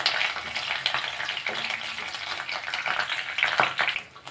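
Six cloves of garlic and a few curry leaves fry in a pan for masala pori, a steady broadband sizzle with several sharp clinks and scrapes of a spoon mixing them, close and fairly loud, no voices.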